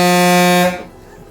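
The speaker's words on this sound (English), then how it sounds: "The only thing that this has that the original one didn't have is a super loud air horn." Super loud air horn on a vintage moving truck, one sustained close blast with a rich harmonic tone that cuts off abruptly and leaves a short fading tail.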